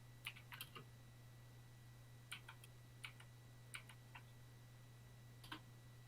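Faint, sparse keystrokes on a computer keyboard as a ping command is typed, clicks coming in small clusters over a steady low electrical hum, with one brief spoken word at the start.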